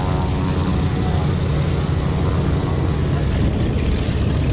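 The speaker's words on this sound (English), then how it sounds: "Little private plane heading to Lewiston." A small private propeller plane flies nearby at a WWII air show, its engine drone a steady, loud, continuous hum with no pauses.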